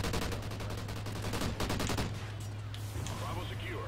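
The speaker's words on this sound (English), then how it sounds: "I am destroying with an LMG right now" Light machine gun fire in a first-person shooter match, loud rapid bursts of automatic shots in a dense stream that breaks off midway, with a voice talking over the shooting.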